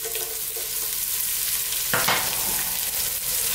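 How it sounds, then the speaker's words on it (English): Celery sizzles and fries in a hot pan for a vegetable noodle dish, a steady loud crackle with a sharp burst of stirring partway through, no talking. "I'm now going to add the celery"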